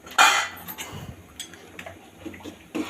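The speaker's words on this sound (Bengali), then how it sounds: "যদি এরকম একটুখানি চামচ যদি নাড়াচাড়া করবেন, চালটা দেখবেন ধুয়ে দেওয়ার পর অনেক সময় দেখবেন নিচেটা বসে যায়।" A spoon stirs washed rice in a pot, giving a sharp metallic clink followed by soft scraping and light taps, close and quiet, with no talking.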